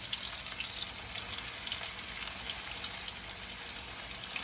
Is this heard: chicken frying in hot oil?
yes